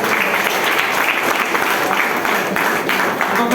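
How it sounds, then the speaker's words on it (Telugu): A large audience claps loudly and continuously, a dense even roar of applause filling the room with no pause. "ఒకసారి మీకోసం నేను గట్టి క్లాప్"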